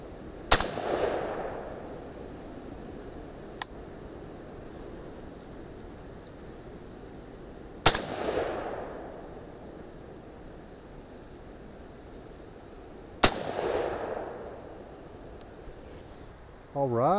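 Three 6.5 Creedmoor rifle shots fired outdoors in wind, each a sharp loud crack followed by a rolling decay, spaced several seconds apart over steady wind noise.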